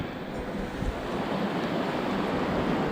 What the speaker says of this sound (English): I wait until some of these waves come rushing in